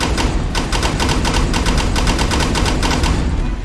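Rapid, loud bursts like machine-gun fire ring out in the racing video game Dirt Showdown, a fast regular volley of sharp cracks repeating for several seconds.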